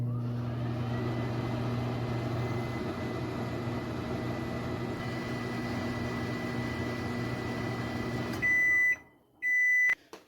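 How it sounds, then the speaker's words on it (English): A microwave oven hums steadily and loudly as a lemon heats inside, then stops and gives a few sharp electronic beeps near the end. "This next hack involves microwaving your lemon for around 15 seconds."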